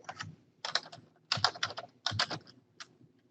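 Computer keyboard or mouse clicks while setting up a weighted gradebook in D2L, heard as four short bursts of crisp clicking with brief pauses between them, close and clear with no talk.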